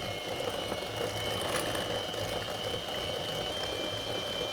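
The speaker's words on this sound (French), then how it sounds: "on va battre l'ensemble jusqu'à ce que ça blanchisse bien et que ça soit bien ferme" Electric mixer beating a mixture of brown sugar and icing sugar until pale and firm, a steady whirring hum with no breaks, rather loud and continuous throughout.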